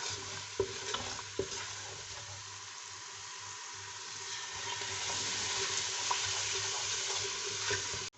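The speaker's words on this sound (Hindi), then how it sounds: "पाँच मिनट मैंने मसाले जो हैं भून लिए हैं" Spices roasting in a pan for a yogurt bottle gourd curry, giving a soft steady sizzle with a few light knocks and scrapes early on, fairly faint and close.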